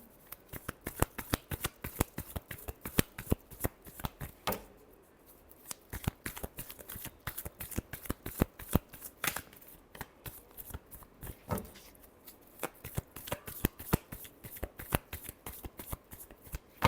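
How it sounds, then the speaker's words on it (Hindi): Tarot cards being shuffled by hand, a rapid riffling patter of crisp card flicks in repeated bursts with brief pauses, close and fairly quiet, with no talking. "last shuffle"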